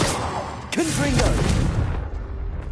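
Confringo, the blasting curse in Hogwarts Legacy, goes off as a single booming explosion with a rumbling tail. A short whooshing, voice-like tone rides over the blast before it fades to quiet.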